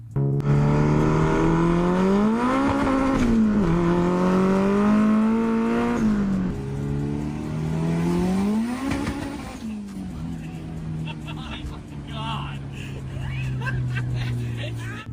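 Engine of a restored, once-abandoned Honda Civic Turbo with some play in the turbo shaft, revving and accelerating hard through rising pitch sweeps for about ten seconds, then settling into a lower drone.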